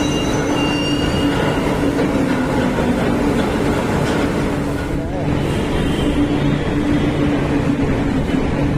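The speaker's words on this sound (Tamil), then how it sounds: "இந்த வீடியோவில் மெட்ரோ ட்ரெயின் எப்படி பாஸ் ஆகுதுன்னு பார்க்கலாம்." A metro train rolls past, a loud steady rumble with rail clatter and high screech sustained for several seconds, with voices faintly audible underneath.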